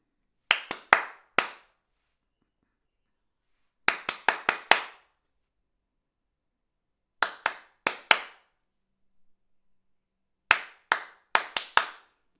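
Hands clap short rhythmic patterns in a clap-back music game, four groups of three to five sharp, close claps separated by silent pauses of a few seconds.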